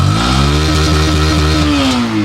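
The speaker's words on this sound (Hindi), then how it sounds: "थ्रॉटल का साउंड।" Close, loud Hero Xtreme 125R motorcycle engine revving as the throttle is blipped, pitch rising and falling in a short burst with no talk.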